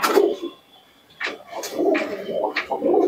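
Pigeons coo in a breeding loft, a few deep throaty calls in short phrases separated by brief quiet gaps, close and fairly loud.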